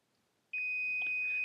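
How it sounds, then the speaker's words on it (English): A multimeter sounds its continuity beep, probed on an air conditioning wire or connector: after a short near-silent stretch, a steady high electronic tone starts abruptly and holds loud and unbroken to the end, with faint clicks of the probe contact. "now you can hear the beep"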